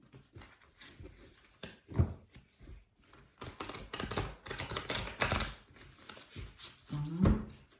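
Tarot cards being cut and shuffled by hand, irregular papery riffles and slaps in close bursts, building to louder shuffles near the end.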